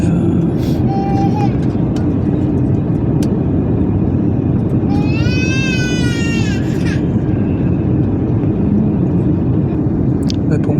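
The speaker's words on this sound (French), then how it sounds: "On est sur le point d'atterrir, évidemment." Airliner cabin on final approach to Geneva over the Swiss Jura mountains, with a loud steady broadband engine and air roar throughout, a brief rising whine in the middle and faint voices underneath.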